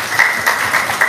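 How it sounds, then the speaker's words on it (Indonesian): A seminar audience claps briefly for a man from Natuna, with scattered, uneven hand claps at moderate volume over a short burst. "Bapak Natuna ya, tepuk tangan dulu dong."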